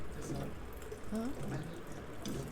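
Tap water runs steadily into a glass being filled for a child indoors, a continuous close splashing rush with a voice briefly over it.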